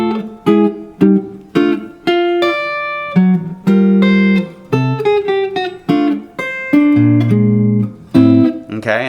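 Solo jazz guitar plays the second A section of a tune, mixing chord stabs and single-note lines in a loose, phrased rhythm. The tone is clean, close and clear, with no talking.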